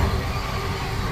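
A train rumbles past on the neighbouring track, a brief low steady rolling drone heard from inside another stopped train on a trip to Kashmir.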